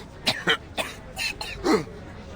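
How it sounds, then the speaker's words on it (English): A few harsh, hacking coughs from a train passenger in the video game Reverse: 1999, in quick succession, close and fairly loud, then a short throaty rasp. "A passenger leans there, coughing hard,"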